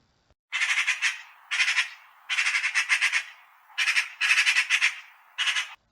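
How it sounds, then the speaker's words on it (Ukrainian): A magpie chatters loudly and nearby in six harsh, rattling bursts separated by short pauses, with nothing else audible. "Ну, звичайно, це сорока."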